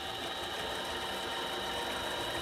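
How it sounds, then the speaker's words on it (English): Small mini lathe running while facing off a piece of 360 brass, a steady close mechanical whir with a fine buzzing hum, continuous and unchanging, with no voices. "Turn on the little funny little mini lathe."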